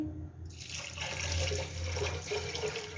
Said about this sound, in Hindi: और ज़रूरत के हिसाब से पानी डालेंगे।